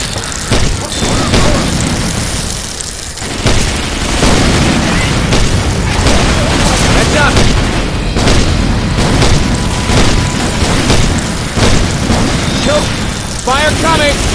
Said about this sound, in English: Throwing a Molotov! Molotov!